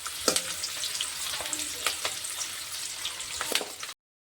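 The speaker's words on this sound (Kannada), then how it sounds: "ಈ ಈರುಳ್ಳಿನ ಹಾಕ್ಕೊಳಕತ್ತೀನಿ ನೋಡಿರಿ. ಇದು ಈರುಳ್ಳಿ ಸ್ವಲ್ಪ ಫ್ರೈ ಮಾಡ್ಕೊಂಡು" Small-cut chopped onions frying in hot oil for an egg and spinach curry, a steady close sizzle with a few sharp crackles and stirring clinks, no voices.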